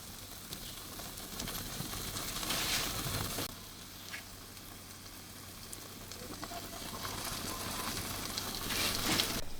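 Pork belly slices sizzling on a hot griddle over okonomiyaki batter, a steady close crackling fry with brief louder hissing bursts as the meat goes down.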